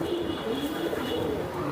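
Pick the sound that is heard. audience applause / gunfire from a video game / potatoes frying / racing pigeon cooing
racing pigeon cooing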